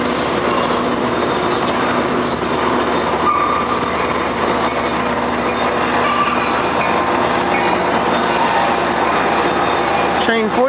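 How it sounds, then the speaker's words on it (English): New Jersey Transit engine 4219, in from the Atlantic City Line, rolls into 30th Street Station with a steady, loud rumble of rail cars and faint wheel clatter. A brake squeal comes at the very end, and a voice talks over the train. "New Jersey Transit engine 4219 coming in to 30th Street Station here from the Atlantic City"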